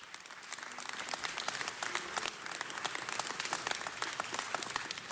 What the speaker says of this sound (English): Let's give Mr. Buscaino a round of applause.